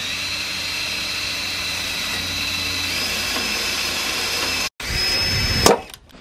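A corded electric drill bores into wooden post-and-beam barn roof beams, whining steadily and loudly for several seconds before cutting out, then revving again in a brief burst before dropping away.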